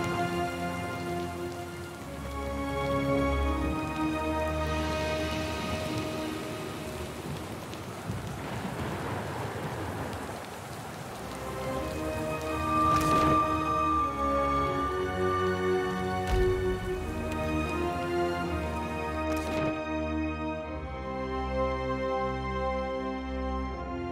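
Rainstorm in the video game Pillars of Eternity, steady pattering rain with distant rolling thunder running beneath sustained musical tones for the whole stretch.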